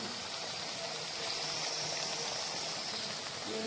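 Water simmers steadily on a low flame in a pot where stuffed banana is steaming, making a soft, continuous bubbling hiss that stays even throughout with no voices.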